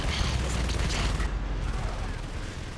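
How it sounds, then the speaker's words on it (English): ARCs firing during a Natural Selection 2 match, a dense continuous barrage of heavy booming shots with no break, loud and up close. "Arcs are firing."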